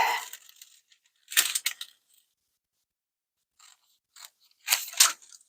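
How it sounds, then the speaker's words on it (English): Scissors cut around a circle during home cake baking, making a few close, crisp clusters of snipping and crunching cuts separated by silent pauses. "Now you just have to make one cut all the way around."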